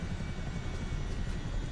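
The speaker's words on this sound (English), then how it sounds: "thing about this helicopter is since we are just literally flying with fuel and no cargo, we have so much excess power" A Chinook helicopter in a flight simulator game cruising with light load, a steady low rotor and engine rumble heard as a constant faint drone.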